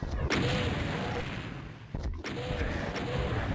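Weapon fire in DOOM against imps and revenants, dense booming shots and blasts with short gaps between bursts, loud and continuous, no talking over it.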